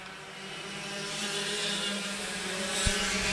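Racing kart engines drone steadily at a local kart club race, a buzzing mechanical whine that builds slightly as the karts pass, heard at moderate distance with no voices.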